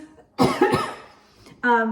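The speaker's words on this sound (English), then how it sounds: "excuse me, I'm gonna cough." A couple of close, harsh coughs, followed by a brief pause and the start of a voice.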